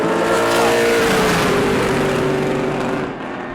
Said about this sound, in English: pretty good first lap there for Jonathan.